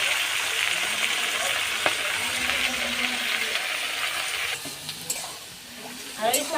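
Spinach tossed and stirred in a hot pan with oil, a steady close sizzle throughout, with a spatula scrape and brief clinks near the end.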